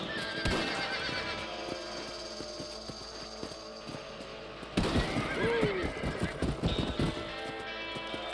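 A horse in the Red Dead Redemption game whinnies loudly and repeatedly while its hooves clop in a steady, close rhythm over a busy in-game background.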